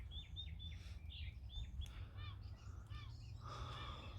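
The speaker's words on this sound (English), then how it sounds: "listening to the birds" Birds calling in a morning chorus around an overnight hammock camp, with crow caws and repeated chirps and tweets at moderate distance over a low steady rumble of background noise.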